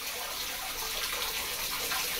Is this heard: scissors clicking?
no